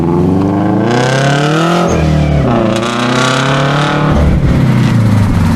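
A Nissan 370Z engine revs up and down repeatedly, loud and close, with a rising and falling whine layered over the engine roar.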